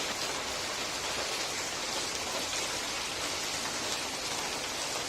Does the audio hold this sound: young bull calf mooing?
no